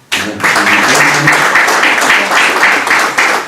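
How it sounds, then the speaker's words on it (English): A conference audience in a Syriac studies hall claps in a sustained round of applause, dense and loud, beginning abruptly and holding steady throughout. "May we have another round of applause for Anna"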